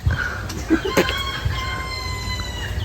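Chicks and chickens calling around a Filipino farmyard, with a rooster crow and clucks over steady background hum; short chirps and a louder crow near the one-second mark, close by.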